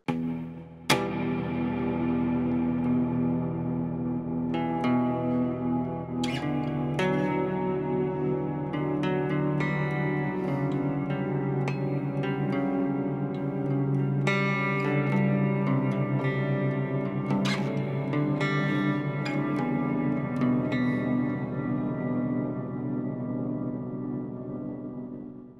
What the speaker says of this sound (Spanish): es el que casi todo el tiempo tengo encendido y es un hall reverb